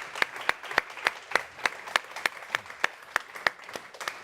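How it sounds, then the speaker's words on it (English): Sparse, evenly spaced claps at a youth panel discussion, about a dozen distinct hand claps in a slow, regular rhythm over faint background murmur, sounding like a small group or a single person rather than a full audience. "if we give a round of applause"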